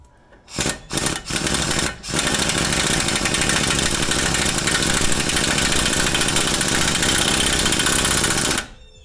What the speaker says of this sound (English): Now I'm just going to snug these in on low with the impact, and then I'll hand tighten them.